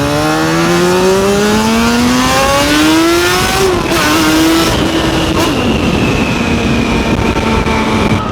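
A Suzuki RG500 motorcycle engine with a new clutch that sounds unhealthy on a night ride, revving loud and close with rising and falling pitch and a continuous drone.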